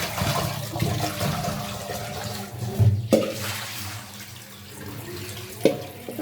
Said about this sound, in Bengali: এই যে ধুয়ে নেওয়া শেষ, সুন্দর করে ধুয়ে নিছি।